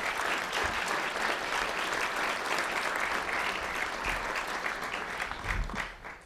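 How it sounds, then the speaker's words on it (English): Audience applause at a National Press Club luncheon: dense, steady clapping from a large room, sustained for several seconds before tapering off at the end. "Please give them a round of applause."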